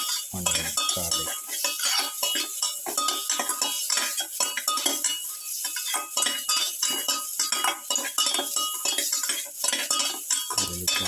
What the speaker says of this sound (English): Saute the tomato pieces together with the onion, garlic.